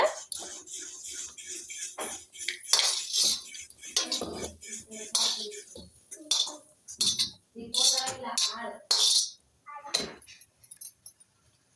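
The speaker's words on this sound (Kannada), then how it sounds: "ಮಿಕ್ಸಿ ಜಾರ್ ಹಾಕ್ಕೊತೀನಿ ಇವಾಗ" Repeated clinks and clatters of a hard mixer grinder jar and utensils being handled up close while making chutney, in short irregular bursts with brief pauses.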